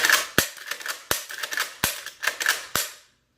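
Marlin 336 lever-action rifle fired five times in quick, even succession, each sharp crack followed by the metallic clatter of the lever being worked between shots, close and loud with no talking.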